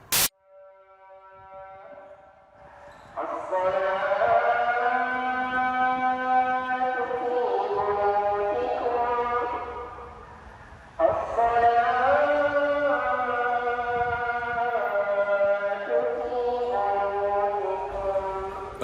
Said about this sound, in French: ce que vous venez d'entendre là, c'est l'appel à la prière